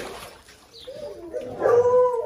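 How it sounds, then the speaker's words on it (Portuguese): American Foxhound dog whimpering, then rising into a drawn-out howl, close and fairly loud, with faint background noise. "Olha bem essa cachorra."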